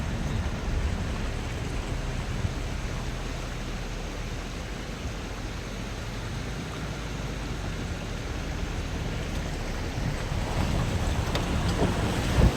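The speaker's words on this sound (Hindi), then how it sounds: "पानी बह रहा है इसमें काफ़ी।" A forest stream in Rajaji Tiger Reserve near Haridwar, with water flowing strongly along its bed. It makes a steady, dense rushing wash that continues evenly throughout, with some wind-like buffeting.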